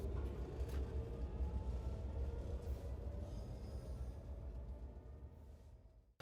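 A Class 66 diesel locomotive works hard under load hauling over 1,000 tonnes of freight, a steady deep rumble with rail noise heard from aboard the train, fading slightly toward the end.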